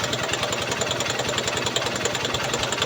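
A Honda Shine motorcycle engine runs after a carburetor cleaning, loud and close, with a steady, rapid mechanical putter and knock throughout and no talking.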